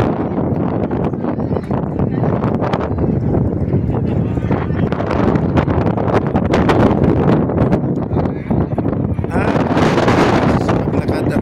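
Strong wind buffets and roars across the microphone beside the Sydney Opera House, a steady rushing noise throughout while a voice talks over it.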